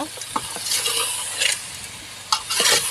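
Vegetables fry in hot oil with a constant close sizzle, while a utensil stirs them with a few sharp clacks against the pan.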